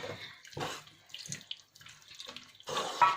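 Plain water pours into a cornflour mix being prepared for restaurant-style dry chilli chicken at home, running in several short bursts of splashing that stop and start, close by with no talk.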